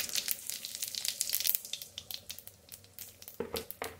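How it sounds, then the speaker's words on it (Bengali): Cumin seeds sizzling in hot mustard oil, a dense crackling spatter that is busiest at first, thins out, then flares again briefly near the end, heard close with no voices. "সরষের তেলই দিলাম। দেবো একটু জিরে ফোড়ন"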